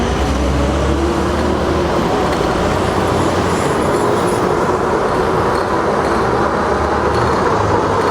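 A bus drives alongside a Zooz UU750 electric bike moving at around 28 mph, giving a loud, steady rumble of engine and road noise mixed with rushing wind that stays constant throughout.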